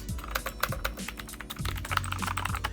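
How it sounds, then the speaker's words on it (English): Rapid typing on a budget mechanical keyboard costing under $30, with dense, steady clacking keystrokes close to the microphone and no voices. "I actually do like the typing on this keyboard more than I like these ones"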